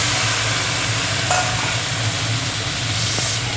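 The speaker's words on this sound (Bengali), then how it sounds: "কেটে রাখা আমগুলো দিয়ে দিচ্ছি।" Chopped raw mangoes hitting a pan of tengra fish curry, a constant hiss and sizzle of hot oil with low rumbling bubbling and a few soft knocks, close and steady without talk.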